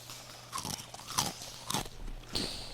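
Someone chews noisily with their mouth open, making four wet, crunchy bites spaced about half a second apart. The sound is close and fairly loud against a quiet background, with no speech.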